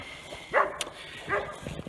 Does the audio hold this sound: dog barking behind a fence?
yes